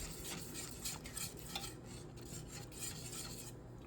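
Butter, flour and beef short rib drippings are whisked together into a gravy, giving a steady scraping and stirring with soft metallic clinks against the pan, close and continuous with no talking.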